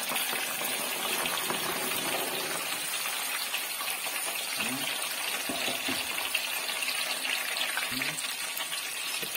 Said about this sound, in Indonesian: kita goreng untuk bawang merahnya dulu ya